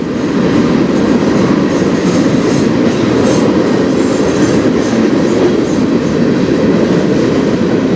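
A freight train of Government of Canada hopper cars rolls past on the Strathroy Subdivision, a loud, close, continuous rumble with rhythmic wheel clatter over the rails and no voices.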